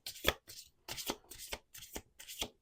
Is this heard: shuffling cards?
yes